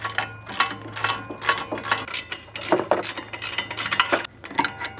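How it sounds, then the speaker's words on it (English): A 3/8-inch drive ratchet with a 7/8-inch socket spins bolts loose on a Kubota B2601 tractor brush guard, giving a steady run of quick metallic clicks and light clinks, close and fairly loud with no talking. "I also have a smaller 3/8 drive with a 7/8 socket because once I break them loose, it makes them easy to"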